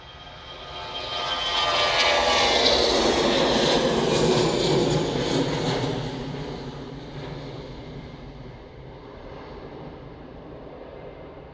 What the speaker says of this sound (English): And we can see another Ryanair just taxiing down as well.